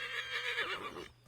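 A horse whinnies in Assassin's Creed, one drawn-out neigh with wavering pitch, followed by a brief soft snort and a faint hoof thud.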